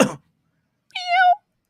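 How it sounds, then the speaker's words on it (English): A single drawn-out cat meow, clear and close, sits alone in a quiet gap between short bursts of human talk at either end. "Oh my, a cat."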